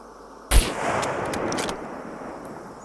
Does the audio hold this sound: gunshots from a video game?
yes